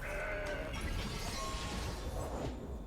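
A goat bleat plays as the Mountain Goat card enters in a digital card game, a wavering cry set against game effects and a swoosh, moderately loud with no talk.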